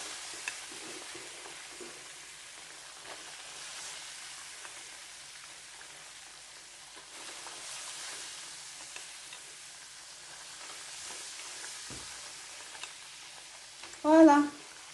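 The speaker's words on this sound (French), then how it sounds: "Je vais laisser frire ça bien sec." Pieces of fish frying in hot oil for choukouya, a steady soft sizzle and crackle running throughout at low level, with a brief louder clatter near the end.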